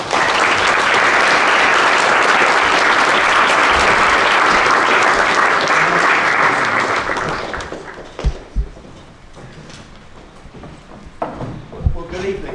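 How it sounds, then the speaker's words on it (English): Loud, dense applause from the audience at a Liberal Democrat leadership hustings in North London, sustained for about eight seconds before fading to scattered claps and a few voices. "can I give a round of applause for our first speaker this evening?"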